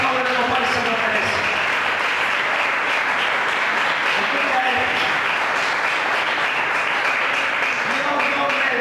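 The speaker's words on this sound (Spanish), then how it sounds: "si te vas a aplaudir, apláudelo más y se lo merece" A church congregation applauding steadily and loudly for several seconds, with a voice speaking intermittently over the clapping.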